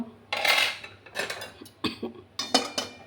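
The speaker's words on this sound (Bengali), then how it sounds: "একটা বোলের মধ্যে এটাকে ঢেলে দিলাম।" Cooked palm mixture being poured and scraped from a pan into a bowl, with a series of close, uneven clatters of a spoon against dishes.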